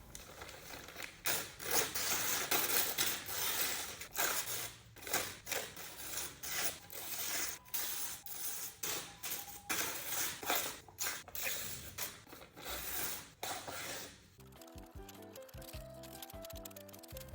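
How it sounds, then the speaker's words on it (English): Leftover paper pieces for a cyanotype collage are ripped by hand, giving repeated close tearing and rustling bursts over about fourteen seconds before softer handling noises. "I'm basically going to rip out some leftover pieces"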